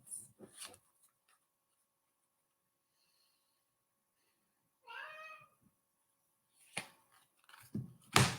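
A pet cat named Tiger Lily meows for food in two close, clear cries, the first brief and the second a longer rising call, with quiet gaps and soft shuffling or handling noises around them.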